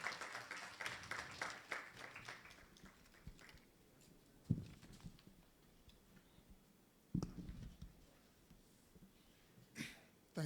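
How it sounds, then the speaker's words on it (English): An audience at a World Population Day 2022 celebration claps for a guest speaker. The applause is brief and fairly quiet, densest at the start, then thins quickly into a few scattered, isolated claps and taps before falling silent. "Please, a round of applause for him."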